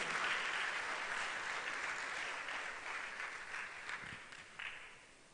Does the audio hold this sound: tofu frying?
no